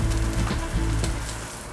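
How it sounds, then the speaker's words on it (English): A pork chop sizzles steadily in a hot pan right after being flipped to brown the other side, a close, continuous crackling hiss with small pops. "Now I'm just going to flip, and we're going to brown the other side."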